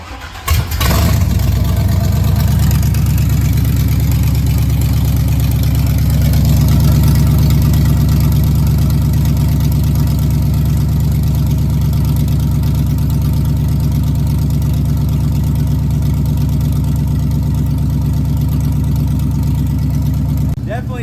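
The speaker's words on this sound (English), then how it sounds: "Let's go ahead and fire this thing up and see what open headers sound like on the 98" A 1998 GMC truck engine with open headers fires up and settles into a loud, raw idle, a steady rumbling roar held close and unbroken for about twenty seconds.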